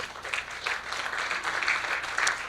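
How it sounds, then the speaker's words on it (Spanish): A church congregation applauds for the Lord at the close of a service, a steady, fairly soft wash of clapping lasting throughout with no voices standing out. "Y un aplauso para el Señor."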